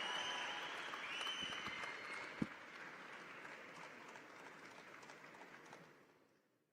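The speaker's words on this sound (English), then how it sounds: "Please accompany him with those claps." An audience at a startup pitch event gives a dense round of clapping, steady and fairly close, before tapering off into quiet.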